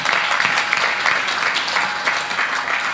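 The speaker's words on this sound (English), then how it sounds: "Give a big round of applause to all of you." A New Year's Day celebration crowd claps in dense, continuous applause that stays loud and even from start to finish, with no voices standing out.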